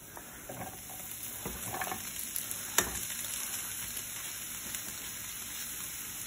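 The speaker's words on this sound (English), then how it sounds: "The oil is getting hot. I hear it sparking a little bit." Oil heating in a hot pan before mushrooms go in, a steady faint sizzle with scattered light pops and crackles throughout, no talking over it.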